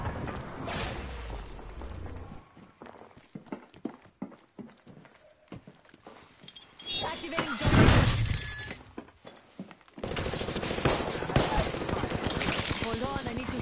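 Rapid bursts of gunfire in the battle royale game Apex Legends, clattering in dense volleys with breaks between them, mixed with other game effects while a player talks over the action.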